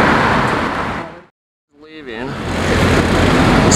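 A supercar GT drives past on a Toronto street with a loud, broadband roar. The sound cuts out briefly, then surges back and swells as the car goes by, with traffic noise around it.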